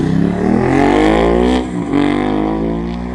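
A Ducati 916 motorcycle pulling away, its engine loud and close, revving up, dipping briefly mid-way, then climbing again as it rides off.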